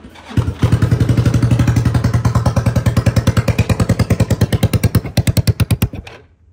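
A Hammerhead 250 engine, freshly fitted with a repaired exhaust, runs loud and close with a steady, rapid thumping idle, then blips in choppier pulses before cutting off.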